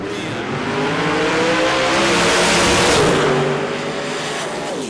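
No-prep drag race cars, a Firebird and a Camaro, roar at close range, their engines revving and building into a loud, sustained launch with harmonic whine and a hint of tire squeal, swelling toward the middle and then fading slightly.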